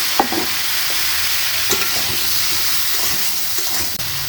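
Bottle gourd pieces gently frying in oil left in the pan after potatoes, for a lau chingri (gourd and prawn) dish: a steady close sizzle with occasional soft stirring scrapes, no voices.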